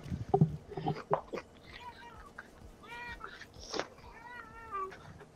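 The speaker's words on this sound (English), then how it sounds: "She's like meowing all the time with no reason." A pet cat gives several soft meows in a row, close by and fairly quiet, with other faint sounds in the room.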